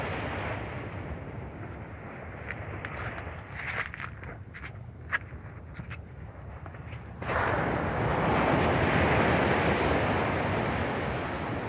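Sea waves wash near a coastal road, with a steady roar of surf and wind buffeting that grows louder and fuller partway through, punctuated earlier by scattered sharp knocks.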